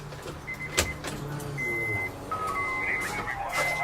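A Honda GSR's fuel system primes after the battery is reconnected, a faint electric pump whir with thin whining tones and a few clicks, under casual talk nearby.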